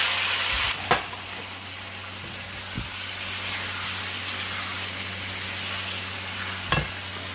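Mixed vegetables dropped into hot tempered oil, sizzling steadily and continuously in a pan, with a couple of soft clunks from stirring, and no voices.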